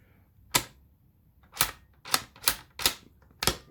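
The bolt of a Tikka T1X .22 rimfire rifle is worked, giving six sharp, close metallic clacks: one single, then a quick run of five, in a quiet room.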